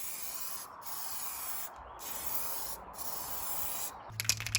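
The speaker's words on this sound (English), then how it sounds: "Then spray our second slightly heavier coat." Continuous hiss of an aerosol can spraying clear coat onto a restored headlight in several long bursts separated by brief gaps, ending with a few small clicks.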